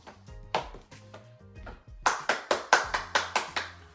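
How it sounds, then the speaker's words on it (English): Hands clap close by, first a few scattered claps, then a steady run of sharp, evenly spaced claps. "Clap."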